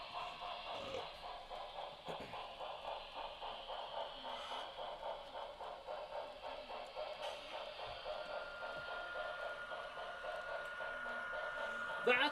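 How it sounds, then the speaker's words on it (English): An air compressor's air dryer runs indoors in a steady, faint mechanical whir with a fast pulsing rhythm that holds unchanged throughout, with no other sounds over it. "His air dryer just randomly came on."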